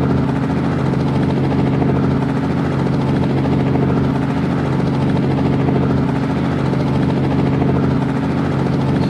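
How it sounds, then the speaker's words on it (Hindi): A helicopter in a video game flies with a steady, loud, continuous rotor and engine drone that holds unchanged throughout, with no voices. "ये हमारा चॉपर हेलीकॉप्टर"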